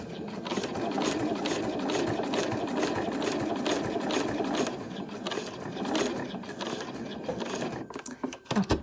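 Close, continuous whirring and clatter of a sewing machine stitching a travel wallet, running nearly nonstop with a slight rhythmic pulse of the needle and a few small pauses near the end.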